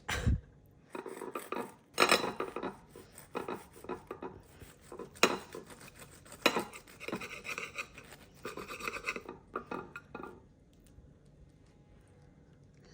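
A large knife saws through a crunchy bean burger, giving repeated rasping, scraping strokes with clinks against the plate for about ten seconds before it quiets, close and fairly loud, no talking.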